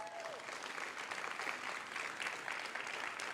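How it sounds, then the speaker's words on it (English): Applause at a university startup pitch showcase: steady, dense clapping from an audience that sounds somewhat distant and moderately quiet. "Round of applause for all of you."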